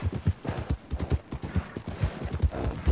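Horse hooves clip-clop in a steady, fairly close rhythm as a horse moves along in Red Dead Redemption 2, with no talk over the sound.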